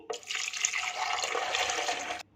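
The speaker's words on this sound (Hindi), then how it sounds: "250 ml दूध ब्लेंडिंग जग में डाल देंगे।" About 250 ml of milk pours into a blender jug in a steady, close splashing stream lasting about two seconds before it stops abruptly.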